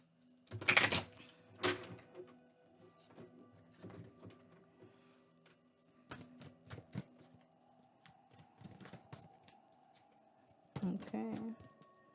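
Tarot cards being shuffled in quiet bursts, with sharp riffling flurries near the start and again at the end and softer card handling in between, close and fairly faint.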